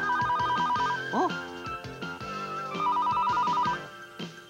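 A telephone bell rings in two bursts of rapid electronic trilling, close and loud, over an upbeat jingle with music throughout, in a 1993 Japanese rental telephone commercial.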